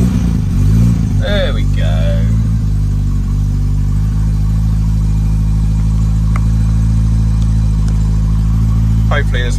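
A Lotus Elan engine being restomodded, without its choke connected, runs loudly and roughly close by, holding a low steady drone with small surges as the throttle is worked, while someone speaks briefly over it near the start.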